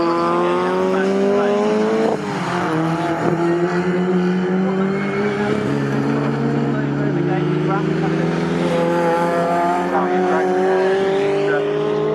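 MG race cars scream past at Snetterton circuit during an MGCC Cockshoot Cup race, their engines loud and continuous with pitch sweeps as they pass and brief tire squeal, under a commentator's talk.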